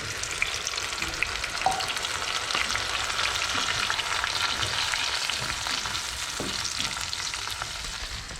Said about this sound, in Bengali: পেঁয়াজ বাটাটা দেওয়ার পর ভালো করে কষা হবে।